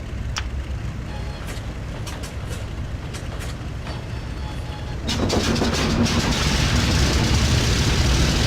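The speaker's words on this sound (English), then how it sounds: "Nice engine sound." Avro Lancaster bomber piston engine running, a steady low rumbling drone that swells louder and harsher partway through as power increases, with intermittent clicks and crackles on top.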